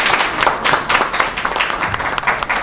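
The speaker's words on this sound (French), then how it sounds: "s'il vous plaît, applaudissez pour" An audience claps at a general assembly of women heavy-machinery drivers and mechanics in Cameroon, loud and sustained applause with uneven bursts of hand claps filling the whole stretch.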